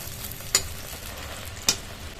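An eggplant and egg pancake fries in a pan over low flame with a soft, steady sizzle, broken by two sharp clicks or taps about a second apart.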